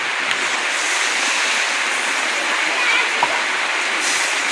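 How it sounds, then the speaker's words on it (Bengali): Water pours into a hot pan of frying potatoes and spices, a loud, continuous hiss and sizzling rush from close by that holds steady for several seconds. "এবার জল দিয়ে দেবো"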